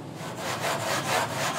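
Steady, rasping back-and-forth scraping of sanding foam, continuous and fairly close, with a rhythmic stroke pattern and no voices.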